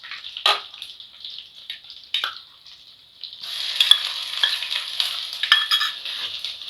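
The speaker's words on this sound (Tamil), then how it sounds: "இஞ்சி பூண்டு பேஸ்ட் நல்லா பச்சை வாடை போகிற வரைக்கும் வதக்கி விட்டுக்கோங்க" Ginger garlic paste and green chillies sautéing with golden fried onions for restaurant-style chicken kurma, a soft intermittent sizzle with a few stirring scrapes that swells into steadier frying midway.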